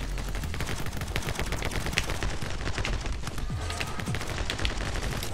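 Dense, rapid gunfire from the side-scrolling shooter My Friend Pedro, a steady loud barrage of overlapping shots and bursts running throughout without letting up.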